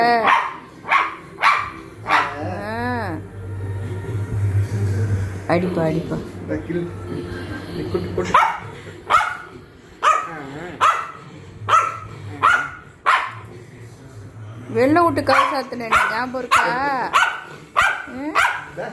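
Repeated dog barks come in bursts throughout, mixed with a person talking and a low steady hum underneath.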